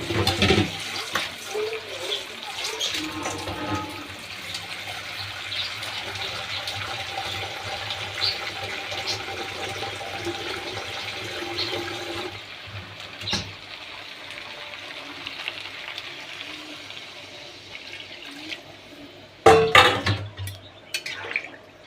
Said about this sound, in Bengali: এবার আমি পানি দিয়ে দেবো